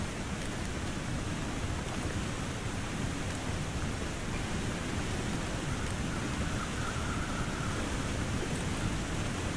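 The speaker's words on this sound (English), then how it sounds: "Looks like we're getting a waterfall." A tall waterfall in the snowy wilderness of The Long Dark, Timberwolf Mountain, rushes as a constant broad roar of falling water, steady and unbroken throughout.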